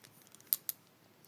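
A knife slices taro into thin rounds, giving two sharp crisp cuts in quick succession and then a faint third, close and quiet with no talking.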